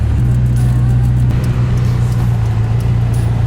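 Steady, loud drone of a boosted 5M-engined Toyota Cressida MX73 cruising down the road, a deep low engine hum holding constant throughout with road noise and no talking.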